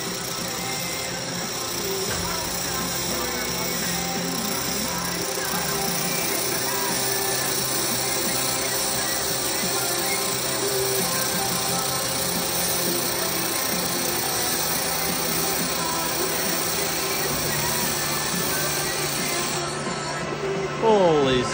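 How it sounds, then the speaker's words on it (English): Beer can being welded together, with a continuous loud buzzing, crackling welding hum running unbroken throughout at close range and little change in level. "This is like welding the beer can together."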